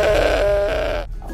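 A single goat bleat from a toy adventure with Despicable Me 3 figures, one loud wavering cry lasting about a second before cutting off, heard alone.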